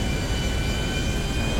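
An airplane flies in a video game, its engine a steady, loud, unbroken drone with no voices over it.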